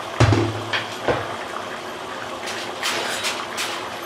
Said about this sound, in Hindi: पानी में बॉयल आना शुरू हो गया है।